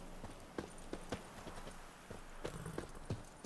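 Geralt's horse Roach trots along in The Witcher 3: Blood and Wine, hooves clip-clopping in a steady, fairly quiet rhythm of distinct hoof strikes.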